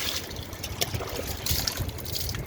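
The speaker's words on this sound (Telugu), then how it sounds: "కొంచెం వాటర్ పోసుకుందాం" Water trickles and splashes steadily onto garden plants at close range, with a few brief louder spatters over a low background rumble.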